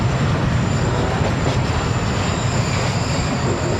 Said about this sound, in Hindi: इसके बिल्कुल सामने रुकी है ट्रेन